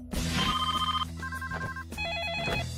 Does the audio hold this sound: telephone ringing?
yes